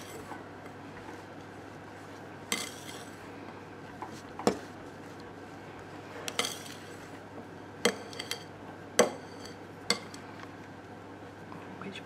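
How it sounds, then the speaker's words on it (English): A palette knife stirs scone dough round a bowl, giving sparse, light clinks and scrapes against the bowl at irregular intervals over a quiet background. "And with my palette knife, I'm just going to stir this round."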